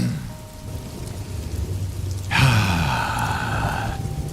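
Steady rain pattering hard on a surface. After about two seconds it swells louder with a rumbling, thunder-like low roar, forming a continuous close wash of storm noise with no voices.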